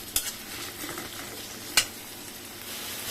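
Chopped onions sizzle steadily in a pan while a spoon stirs them, with two sharp scraping clacks against the metal standing out over the constant frying hiss, all close up and with no voices.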